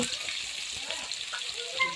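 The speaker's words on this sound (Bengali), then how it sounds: "পেঁয়াজটা একটু ভাজা ভাজা করে নিব" Sliced onions fry in hot oil with turmeric, chili and green chilies in a home kitchen, giving a steady close sizzle and hiss that runs evenly for the full two seconds.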